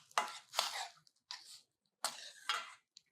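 Knife cutting fresh coriander stems on a board for ragi soup: four or five separate bursts of quick chopping strokes, close and moderately loud, with short pauses between them and no talking.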